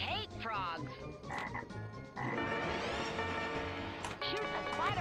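A frog croaking in the Scared Stiff pinball game, as a series of loud, warbling electronic croaks mixed with game music and effects, with a voice over it.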